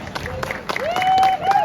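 Indoor hall at a car show, a crowd claps and cheers for a 13-year-old car owner, a steady wash of applause with whistles and voices rising across the short burst.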